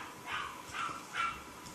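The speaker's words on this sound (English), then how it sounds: "I think that's Casey's puppy." Three short, high-pitched puppy barks spaced evenly apart, fairly faint and a little distant.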